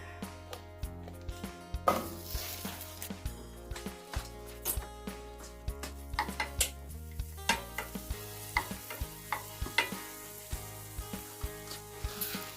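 Garlic and onions frying in butter in a pan, a soft steady sizzle with repeated stirring taps, partly buried under continuous background music.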